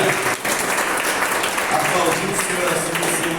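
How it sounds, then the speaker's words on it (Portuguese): A church congregation applauds in steady, dense clapping that fills the room at a constant loud level, with no voices standing out. "Bora aplaudir o Senhor por isso"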